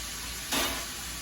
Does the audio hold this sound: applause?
no